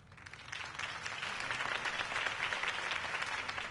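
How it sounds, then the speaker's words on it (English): Crowd applause in the video game Batman: The Telltale Series after a campaign speech swells and holds, a thick wash of many hands clapping that builds slightly in loudness and carries on steadily. "could have heard that applause"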